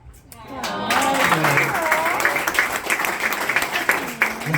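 A small group applauds after a birthday speech, a close, lively burst of clapping that swells quickly and holds steady, with voices chattering and cheering over it.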